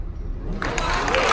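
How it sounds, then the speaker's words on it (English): Applause for Marines at a veterans' military appreciation party aboard a Carnival cruise ship swells suddenly partway through, a dense, steady patter of many hands that follows a quieter moment of room noise. "How about another big round of applause for our Marines, everybody?"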